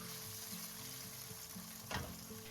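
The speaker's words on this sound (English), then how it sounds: "turn the tofu over and pan fry until the other side is also golden brown" Tofu pan-frying in a hot pan gives a steady, close sizzle throughout, with a brief louder crackling burst near the end as the pieces shift or turn.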